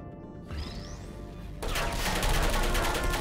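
A turret opens fire in Portal: a rising electronic whine gives way to a loud, sustained burst of rapid machine-gun shots that rattles on until the end.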